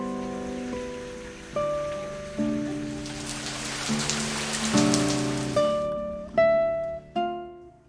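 Rain falling steadily in the background, a soft continuous patter through the passage, mostly covered by a plucked melodic music score with distinct notes ringing out on top.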